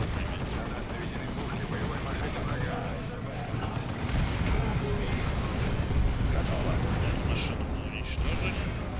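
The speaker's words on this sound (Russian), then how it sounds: "Пушки боевой машины." Machine guns on a war vehicle firing in the Warhammer 40,000 Dawn of War 2 strategy game, dense continuous gunfire and battle rumble throughout, with game voices faintly mixed in.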